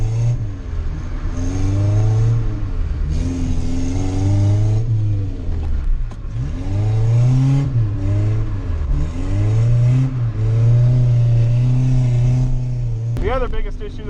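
Nissan 240SX with a KA24E engine drifting in the rain, engine revving up and down in repeated surges of acceleration, loud and close, with wet road noise underneath.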